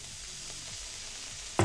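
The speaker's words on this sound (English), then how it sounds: "Ooh, that sizzled." Browning onions sizzle steadily in a pan, then Worcestershire sauce hits them with a sudden loud burst of hiss right at the end.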